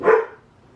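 A single short dog bark, fairly close, that fades quickly into quiet background.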